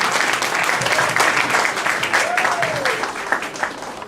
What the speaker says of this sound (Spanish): Con un fuertísimo aplauso vamos a recibir a Juan para que nos cuente cómo es esto del mensaje.